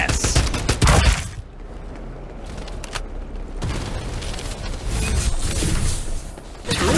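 Gunfire erupts in the battle royale video game Farlight 84, loud bursts of shots at the start and again near the end, with busy mechanical game noise filling the stretch between.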